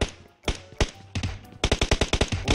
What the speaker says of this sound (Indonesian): Ada tembakan.